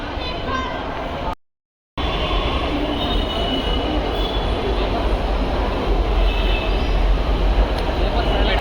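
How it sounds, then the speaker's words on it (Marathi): A Pune metro train rumbles and squeals loudly as it pulls into the station, wheels grinding steadily over a sustained roar, with voices faintly mixed in. "मेट्रो आलेली आहे"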